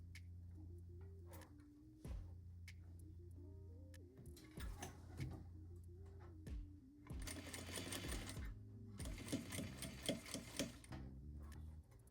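A sewing machine stitches down the fabric beside the zip on a zippered pouch, running in steady bursts of rapid mechanical clatter that start, stop and pick up again, close and fairly loud, with no talking.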